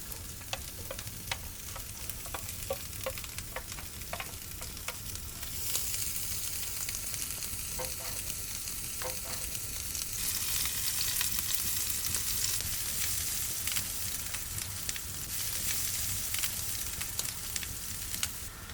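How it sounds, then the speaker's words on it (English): Parsnips and carrots sear in a pan over an outdoor fire, giving a steady close sizzle with scattered crackles and light stirring scrapes, growing louder and more hissy midway. "We sear them until golden."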